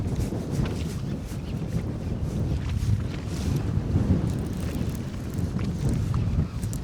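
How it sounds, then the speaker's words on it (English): Heavy wind buffets the microphone while fishing from a boat in Canada, a loud continuous low rumble with gusty swells and some faint water noise beneath it, and no voices. "It's the wind."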